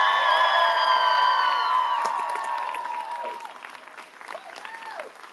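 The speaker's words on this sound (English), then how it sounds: "give another round of applause" Audience at a cosplay contest finals at a pop culture expo breaks into applause with cheers and whoops, loud clapping over a held musical tone that gradually thins toward the end.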